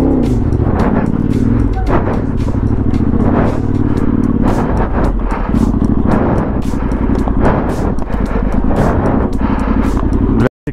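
Yamaha XT660R or Ténéré 700 motorcycle ridden on a trail, loud engine drone with rhythmic bursts of revving and wind buffeting close to the rider, ending abruptly.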